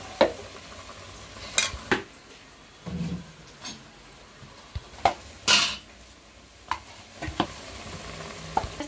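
Chicken and cooked-down tomato pieces stirred in a frying pan over a soft sizzle, with a spoon scraping and clinking against the pan in irregular strokes, close and moderately loud, no talking.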